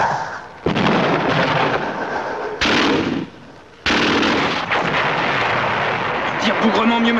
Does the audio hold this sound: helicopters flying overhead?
no